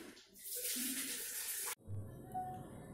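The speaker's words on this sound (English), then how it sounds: "pour this green color water into the" Water pours briefly into a container with a hissing splash that stops abruptly, leaving a faint quiet background.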